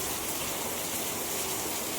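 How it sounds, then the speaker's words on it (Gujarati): Steady rain falls in a dense, even patter and hiss, constant and close with no voices. "જો વરસાદ ચાલુ થઈ ગયો"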